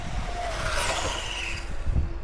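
A Hobao EPX radio-controlled truck on foam wheels makes a speed run outdoors in the wind, its high whining motor sweeping past nearby with wind buffeting and tire noise underneath.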